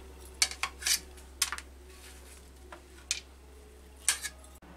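A metal spoon scrapes and taps against a bowl while picking seeds out of watermelon flesh, a scattered series of short, close clinks and scrapes with quiet pauses between them.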